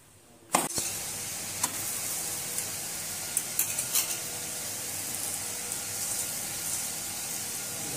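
Puran poli laid into spread ghee on a hot pan, a sudden onset of soft continuous sizzling with a few light scraping taps, no voices.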